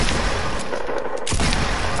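Sniper rifle fire in a video game sounds as loud, dense blasts and booms that fill the whole stretch, with a brief lull in the middle before the noise surges again.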